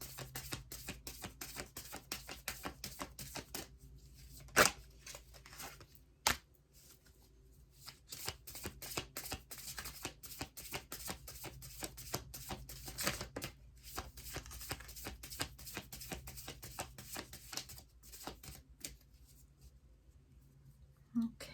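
Tarot cards are shuffled close and quiet in a run of quick riffling and slapping strokes, with a few sharper snaps and short pauses.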